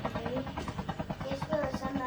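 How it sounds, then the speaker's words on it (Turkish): A helicopter in the video game COD Mobile Battle Royale gives a rapid, rhythmic rotor thumping with a whining engine tone, heard fairly close while voices talk over it. "Helikopterle mi geliyor?"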